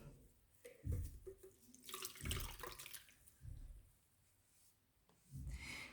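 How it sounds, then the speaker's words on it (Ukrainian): Water splashes at a sink as a face is rinsed after cleansing with a skin-care routine, in about five separate bursts of splashing and dripping, close and moderately loud, with quiet gaps between them. "Ви просто наклоняєтесь і змиваєте водичкою."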